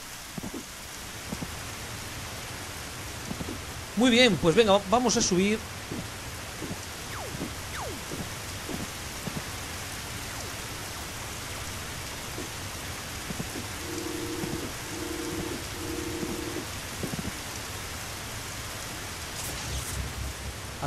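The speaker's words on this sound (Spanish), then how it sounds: "Corre, que me pilla la lluvia." Steady rain patters continuously in the game Dig or Die, with a low rumble of thunder underneath, while a voice briefly speaks over it.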